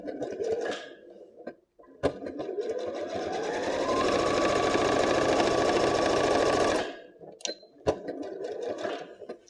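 A sewing machine stitches a phone case lining, right sides together, in a fast steady whirring burst of about five seconds, preceded and followed by short clicks and handling knocks, with no voices.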